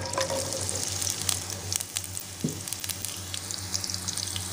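Chopped onion fries in hot ghee for a turnip (shalgam) dish, a steady close sizzle with occasional scraping stirs and a low hum beneath, no voices.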